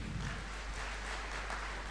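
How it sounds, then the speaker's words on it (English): Audience applause at a school centenary investiture ceremony, a steady, dense wash of clapping that holds at even loudness throughout, with no voices over it. "Please give them a huge round of applause"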